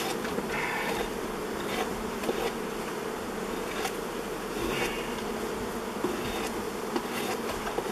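Dense swarm of honey bees buzzing loudly and continuously inside an old beehive opened after more than thirty years, a close, steady drone with occasional individual bees flaring nearer, and no speech.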